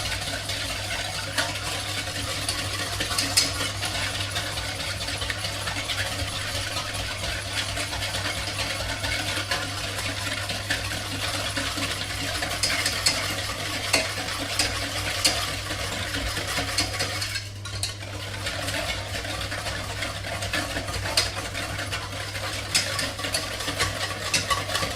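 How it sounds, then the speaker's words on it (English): Egg yolks are whisked with milk and sugar in a bowl, giving a steady, continuous rapid swishing and clinking that runs close and even throughout, and no voices. "And right now we are adding egg yolks to the milk and the sugar"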